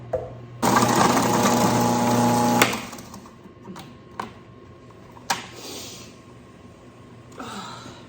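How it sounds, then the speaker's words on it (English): A food processor chops onions for salsa in a loud, steady whir that runs for about two seconds. It then cuts off, leaving scattered clicks and clunks in a quiet room. "We just have to finish processing the onions"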